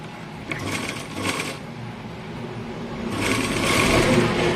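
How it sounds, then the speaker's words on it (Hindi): A sewing machine runs a straight seam along a strip of fabric for a simple suit. It gives a steady close whirring hum that swells louder toward the end. "यहाँ से सीधी सिलाई चलाएंगे ऐसे"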